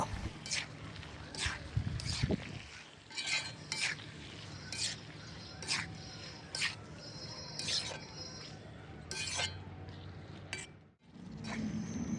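Spices, salt and chopped tomato are stirred in an iron wok over a clay stove, with repeated scraping clinks of a spatula against the metal and a soft sizzle underneath.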